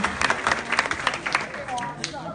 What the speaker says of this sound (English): big round of applause one last time for Andrea and Sullivan